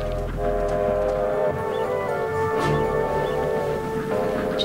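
A train on the railroad tracks in the film Stand By Me rumbles past with a sustained blaring horn, loud and close, steady for several seconds.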